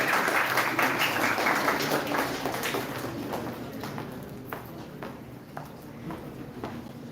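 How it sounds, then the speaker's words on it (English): Audience applause at a YUGMA 2025 event greeting a speaker, a dense wash of clapping that starts loud and gradually thins out over several seconds, with a few scattered individual claps near the end. "A huge round of applause."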